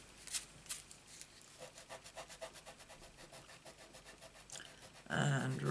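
An ink rubber scrubs away stamped ink on paper in a quick rhythmic run of close, dry rubbing strokes, followed by a louder burst of handling noise at the end.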